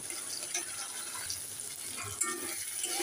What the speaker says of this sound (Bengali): এবার আমি এখানে পরিমাণ মতো জল দিয়ে দিই ডালটা সিদ্ধ হওয়ার জন্য